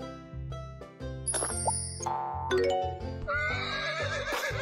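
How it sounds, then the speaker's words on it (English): A horse whinnies over a cheerful tinkling tune with chimes, the neigh rising and fluttering near the end. "Horse."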